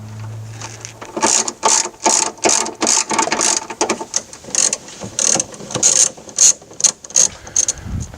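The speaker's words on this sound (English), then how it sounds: "start my 3 bolts" Close, loud rapid ratchet clicks in repeated bursts of about a dozen strokes as a hand ratchet runs the mounting bolts of a windshield wiper motor on a 1989 Chevy K1500 Silverado, with no talking.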